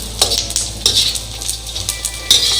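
Edible gum (gond) frying in oil in a pan for panjeeri gives a steady close sizzle, broken by repeated scraping and stirring clatters of a spoon against the pan, with no talking.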